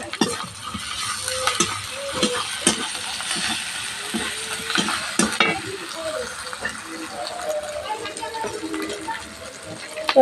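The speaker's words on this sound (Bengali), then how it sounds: "এবার সব মশলাকে ভালো করে আমি কষিয়ে নিচ্ছি" Spiced paste of ground turmeric and cumin paste being sautéed and stirred in a pan for an egg curry, with a steady sizzle and frequent scraping clicks of the spatula close by, continuous throughout.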